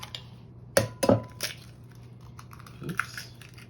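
Eggs are cracked into a bowl, six in all, making a few sharp taps and cracks close by with brief pauses between them and small clinks of shell and glass, in an otherwise quiet kitchen.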